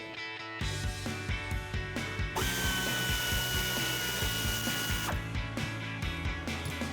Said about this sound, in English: I have my air ratchet right here. It's a 3/8 drive with a deep 15mm socket. We are going to loosen up and remove the nuts